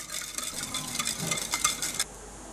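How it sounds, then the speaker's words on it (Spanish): Oil, a few drops of vanilla and vinegar are stirred together for a vegan chocolate sponge cake, making quick, close scraping and swishing strokes that stop abruptly near the end. "Vamos a revolver muy bien todo."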